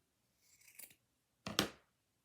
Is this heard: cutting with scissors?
yes